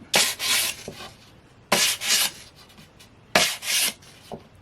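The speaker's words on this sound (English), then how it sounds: "he takes his sandpaper and he just hits like that" Sandpaper rubbed in three quick bursts along the edges of a wooden sign to give it a distressed look, each a close, rasping scrape with short pauses between.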